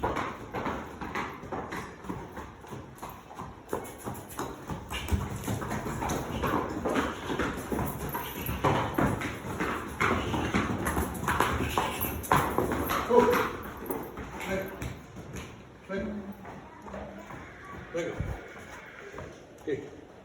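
Horse hooves clip-clop on the ground during a horse presentation at a stable, a steady shuffling rhythm of steps running under continuous talking throughout.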